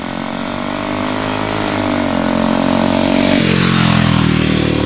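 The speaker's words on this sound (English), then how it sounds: "if you listen closely, you can hear the two-speed shift" A 79cc big bore engine on a motorized race bike with a two-speed transmission revs loudly and steadily up close, its pitch rising until a shift drops the tone and it climbs again.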